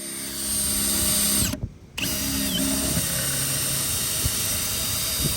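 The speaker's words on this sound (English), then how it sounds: "you can step the drill bit up one more size" A power drill whines steadily as it bores through fiberglass on an RV, with a brief cut-out in the middle before the drilling resumes loud and close.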